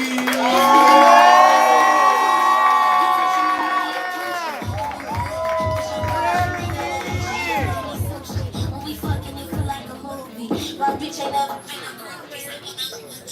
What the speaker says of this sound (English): We're clapping, we're building energy. Make all the noise for Rarity